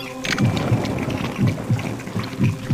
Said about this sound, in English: Or at least it's raining outside.